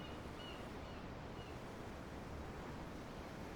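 Steady ocean waves wash continuously in a Tales of Arise scene aboard a ship, a broad, even surf roar that holds at a moderate level with no talk over it.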